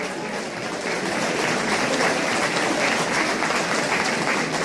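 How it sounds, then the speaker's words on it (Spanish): Steady, dense applause from an audience at a recitation event fills the whole stretch, loud and sustained without pause. "fuerte el aplauso"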